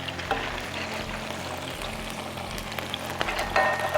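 Potatoes frying in Spanish olive oil in a pan, a soft steady sizzle and crackle with faint scrapes from a kitchen implement, quiet and continuous.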